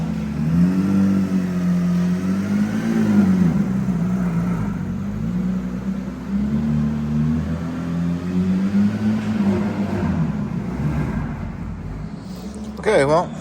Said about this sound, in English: I can't stop hearing that car. That thing sounds so good.